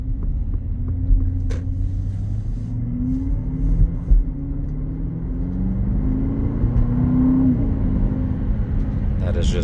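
A 2021 Aston Martin DBX accelerating from light throttle, with a low engine rumble building steadily from inside the cabin and a smooth gear change partway through, under someone talking.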